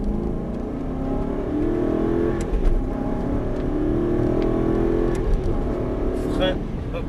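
An Aston Martin V8 accelerates hard at full throttle on a driving course at Dreux, its engine note droning steadily close by while an instructor talks over it.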